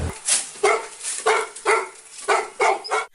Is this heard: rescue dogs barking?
yes